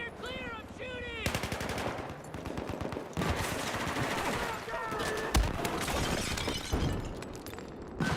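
Battlefield 4 gunfire: dense automatic bursts and overlapping shots rattle steadily through the whole stretch, loud and close, with brief chatter from in-game voices at the start.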